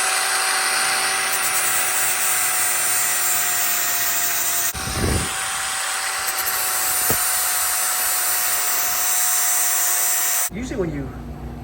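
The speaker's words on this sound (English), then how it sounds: "I'm gonna go ahead and grind the paint off of them and fill them with TIG weld real quick." An electric grinder strips paint from the steel frame of a 1972 Harley-Davidson Shovelhead in a shop, running loud and continuous with a steady whine, a brief interruption midway and a clunk near the end.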